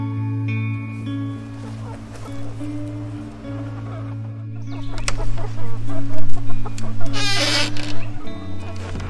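Homestead chickens cluck near and loud, starting with scattered calls over a steady hum, then growing into a busy, rhythmic run of clucks and squawks in the second half.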